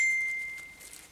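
A phone gives a single bright notification ding for an incoming text message. The tone rings out clearly and decays slowly over about a second, with no one talking.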